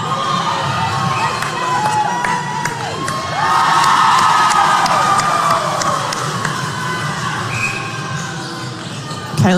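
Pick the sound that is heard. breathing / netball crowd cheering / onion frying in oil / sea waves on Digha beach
netball crowd cheering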